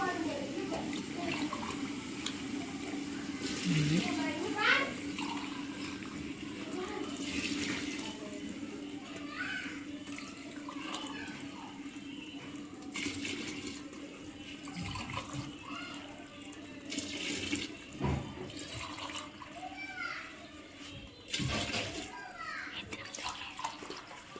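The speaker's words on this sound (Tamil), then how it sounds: "அஞ்சு கிளாஸ் அரிசி அதனால் இதுக்கு தகுந்த மாதிரி தண்ணி ஊற்றுறேன்" Water poured steadily from a glass onto five glasses of rice for a vegetable biryani cooked over a wood-fired stove, a continuous splashing and trickling with occasional drips. A voice talks over it throughout.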